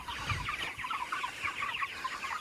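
A flock of around 500 chickens in a roller pen, clucking continuously in a close, busy chorus of overlapping soft calls with no talking.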